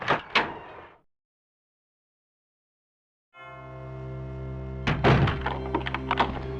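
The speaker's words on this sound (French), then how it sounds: "il a fermé personnellement les portes" Doors shut in the Resident Evil 2 video game: a couple of quick thuds, then a sustained mechanical hum followed by a cluster of clunking impacts and rattles, fairly close and alone.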